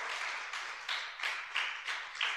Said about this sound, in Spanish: Pongan un aplauso al Señor.